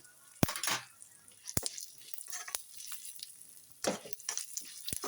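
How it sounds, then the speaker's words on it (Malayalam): Raisins with white and black sesame seeds roast in ghee, giving a soft, steady sizzle broken by sharp spoon clinks and scrapes against the pan. "നെയ്ക്കകത്ത് നല്ലോണം മൂപ്പിച്ചെടുക്കണം."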